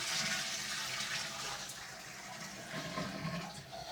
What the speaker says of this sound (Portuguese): Descarga.